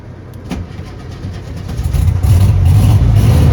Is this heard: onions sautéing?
no